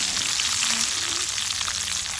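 Curry leaves frying with mustard seeds in hot butter in a pan, a loud, steady, dense sizzle and crackle heard close up without any voices.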